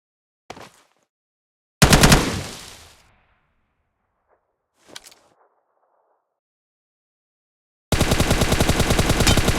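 Gunfire in the mobile battle game PUBG Mobile: a few separated single shots with short echoing tails, then a loud, rapid sustained burst of automatic fire close by.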